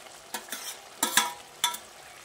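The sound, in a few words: stirring onion and capsicum into egg gravy in a pan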